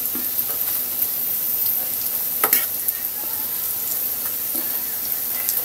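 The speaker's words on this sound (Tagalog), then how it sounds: "Salang nyo lang sa mahinang apoy. Para hindi masunog agad." Sardines and squash fry over low heat in a pan, giving a steady soft sizzle with occasional louder crackles and a brief stirring scrape partway through.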